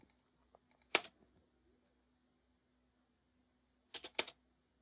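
A few crisp computer keyboard key presses while dragging keyframes in After Effects: a short cluster of clicks near the start, then a tighter burst of two or three clicks near the end, close and quiet with silence between.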